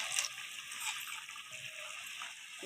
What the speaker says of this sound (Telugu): మిక్సీ గిన్నెలో కొద్దిగా నీళ్ళు వేసి కూరలో వేస్తున్నాను.